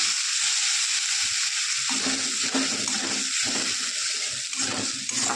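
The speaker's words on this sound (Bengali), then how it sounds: "পেঁয়াজটা হালকা ভাজা পরে ফিরে আসছি" Onions frying in a pan for a homestyle fish curry give a steady, close sizzle throughout, with soft scraping stir strokes breaking through at intervals.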